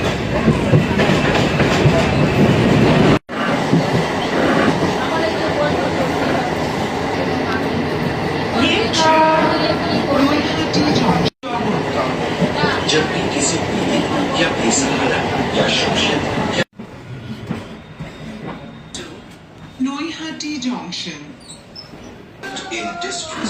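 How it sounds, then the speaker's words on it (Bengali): Local commuter train running on rails from Bidhannagar, a steady loud rumble and rattle of the carriages with clickety-clack, briefly cut twice, turning quieter and more open near the end with voices audible at times. "যথারীতি ট্রেন উঠে গেছি বিধাননগর থেকে, লোকাল ট্রেন এসছে বড়মার কাছে"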